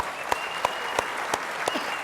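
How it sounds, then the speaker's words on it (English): About five slow, evenly spaced claps from an audience at an HP World Tour 2015 conference ring out over a faint background hum, sharp and distinct rather than a dense crowd. "let me give you a big round of applause for the audience here."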